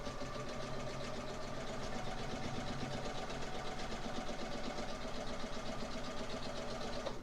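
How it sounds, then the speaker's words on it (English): A domestic sewing machine stitches quilt fabric in one continuous run, its rapid mechanical hum and needle chatter steady and close throughout, with no voices. "I'm going to go ahead and just sew this other side for you really quickly"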